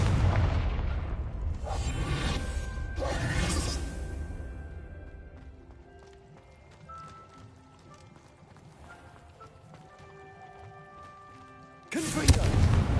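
Confringo blasting spells explode in Hogwarts Legacy gameplay: two loud bursts near the start, a quieter stretch of scattered crackles and chiming tones, then another loud blast at the end.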